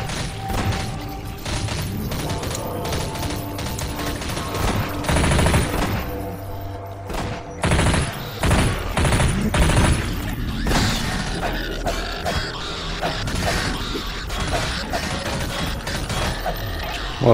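Rapid gunfire from the horror shooter game Nightmare House 2, dense bursts and cracks of shots with shattering impacts, loud and nearly continuous throughout, with game sounds between volleys.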